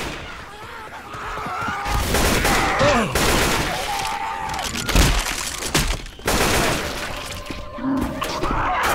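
Gunfire in a Left 4 Dead 2 versus match: loud, dense bursts of shots and sharp cracks come in clustered volleys, with occasional voices under the firing.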